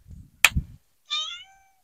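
A cat lounging in a cement bucket during home renovations gives a single clear, close meow, just after a brief knock and low rustling.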